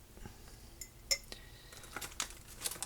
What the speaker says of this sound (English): put the sausages in the jar